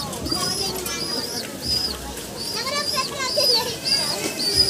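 Pet pigeons in a loft being fed, a busy mix of cooing and chirping birds close by, with people talking over them throughout.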